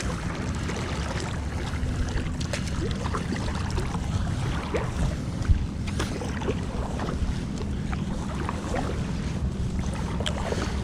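An NRS Heron 11 inflatable fishing SUP being paddled on open water gives steady low water wash and wind rumble, with faint paddle splashes through the stretch and no speech.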